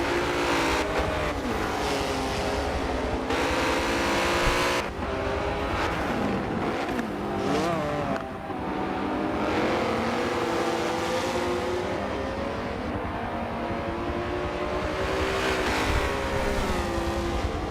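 Race cars, including a McLaren and a BMW, race at Daytona in the Michelin Pilot Challenge with loud, sustained engine roar. Pitch swoops and shifts as the cars pass and rev, and several engines overlap close by.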